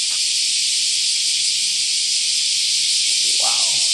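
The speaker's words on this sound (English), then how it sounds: "I don't know if you can hear me over the cicadas." Loud cicadas in trees in Japan during cicada season, near Osaka, make an unbroken, deafening high-pitched drone that stays steady the whole time, with a brief faint sound near the end.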